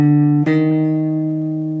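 An electric guitar plays a quick slide into a note from a song, a clear sustained tone with a brief pitch shift partway, then ringing steadily and loudly on its own.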